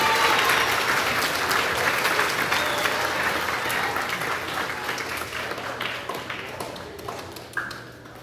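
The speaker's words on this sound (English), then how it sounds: "Now we can clap." Audience applause fills a school awards ceremony for grades 4–6, a dense, steady clapping that stays loud for several seconds before gradually thinning and fading toward the end.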